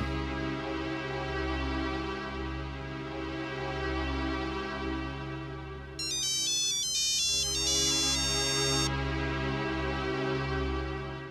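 A repeating electronic mobile phone ringtone melody plays over a sustained musical backdrop, a bright tinkling pattern that sounds for a few seconds before stopping.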